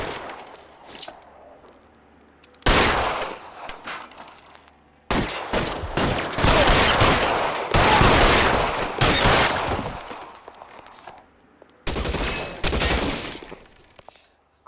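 Gunfire in LA Noire, with loud bursts of shots clustered around several moments across the stretch, separated by quieter gaps. No one speaks during the shooting.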